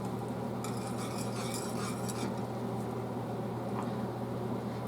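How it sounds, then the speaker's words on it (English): Whisking Alfredo sauce in a Teflon pan: a quiet, continuous swishing stir with faint soft scraping and light clinks, a brief brighter burst early on, with no talking. "it's going to start to thicken up as I whisk along."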